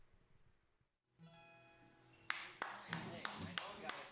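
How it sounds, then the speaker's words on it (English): Sharp, separate claps from a single person follow a soft tonal passage after an original song, about half a dozen close hand claps spaced irregularly over a sustained background tone. "thanks for the clap, Wes"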